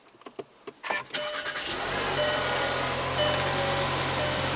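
A 2016 Volkswagen Jetta with a 1.8 L turbocharged four-cylinder starts with push-button ignition. After a brief crank the engine catches and settles into a steady, smooth idle heard up close.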